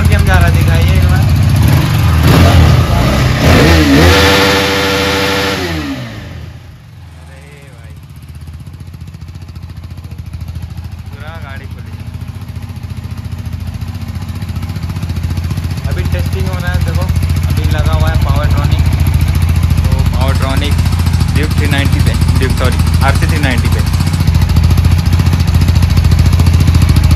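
KTM RC 390 motorcycle fitted with a Powertronic ECU revs hard near the mic, engine roar rising then dropping away before building back to a steady loud drone, with people talking over it.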